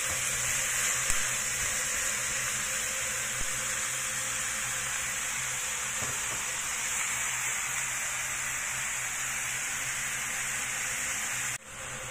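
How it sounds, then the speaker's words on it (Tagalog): Ground pork frying in a pan, a steady close hiss and sizzle that holds evenly for the whole stretch before a brief dip near the end, with no voice over it. "i-fry lang natin yan hanggang sa maging brown din yung kulay ng giniling"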